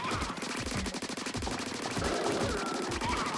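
A Splatoon weapon fires a steady, fast stream of soft thumping shots, roughly a dozen evenly spaced pops over a few seconds, heard alone and fairly close.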